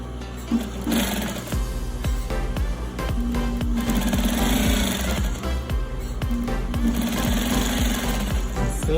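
A sewing machine runs close and loud, stitching a French seam with a rapid mechanical chatter that speeds up and slows down in bursts over about nine seconds.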